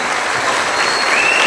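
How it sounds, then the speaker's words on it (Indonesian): An audience at a religious gathering breaks into loud, steady applause, a dense wash of clapping that holds at full strength throughout with no voices over it. "Tepuk tangan untuk kita semuanya."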